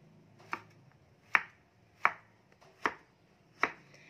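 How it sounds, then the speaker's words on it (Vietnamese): A knife slices diagonally through a luffa gourd on a cutting board, making five crisp, evenly spaced chopping thuds close up, with no talk over them. "các bạn sẽ úp cái phần mướp lại, mình sẽ sắc xéo"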